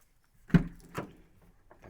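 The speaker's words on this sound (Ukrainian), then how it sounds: "Дверки легесенько закриваються." The door of a 2013 Renault Trafic long-wheelbase van with a 2.0 engine being closed, a soft thud followed by a second lighter click and faint rattles.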